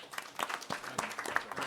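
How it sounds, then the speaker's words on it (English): Audience applause at a talk on green, high-quality new build homes: a brief, fairly quiet patter of clapping from a small crowd, scattered and uneven rather than a full ovation. "a round of applause for Robert"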